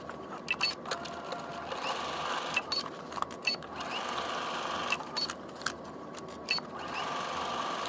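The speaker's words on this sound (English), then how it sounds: "Once you have those pinned, you can take it to the machine and stitch it." A sewing machine stitches fabric in a steady whirring run broken by brief pauses and clicks, close and moderately loud, with no speech.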